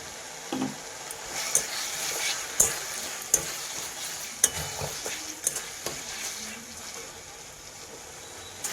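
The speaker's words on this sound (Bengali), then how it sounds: "মশলাটা কষতে কষতে নাড়াচাড়া করতে করতে তেল ছেড়ে দিয়েছে।" Spice masala with a little sugar sautés in oil for a Bengali rui fish curry. A soft, even sizzle runs underneath as a spatula clicks and scrapes against the pan at irregular intervals; no talking.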